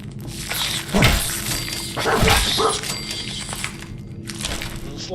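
Dogmeat, the dog in Fallout 4, gives a couple of loud, close barks amid game noise and rustling crunches, with bursts of sound and no clear talking.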